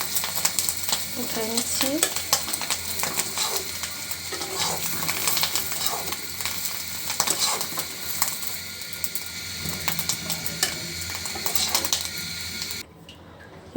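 An egg fries to a crisp in a pan in a village kitchen, giving a steady close sizzle with scraping and stirring clatter, while a voice speaks briefly over it.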